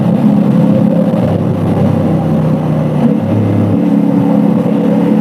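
A CFMOTO 450SR motorcycle engine drones loud and steady while riding in third gear, a constant close rumble with slight pitch shifts and no talking.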